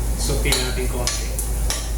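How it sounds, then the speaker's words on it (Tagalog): Garlic and onion sauté in a pan for tuna pasta, with a soft steady sizzle and a few light clinks of a utensil against the pan, close and fairly loud. "Sauté natin konti."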